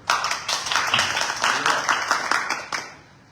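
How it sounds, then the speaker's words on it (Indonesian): A church congregation claps together after a sermon call, a burst of uneven hand claps at moderate distance that fades out after a few seconds. "Tepuk tangan."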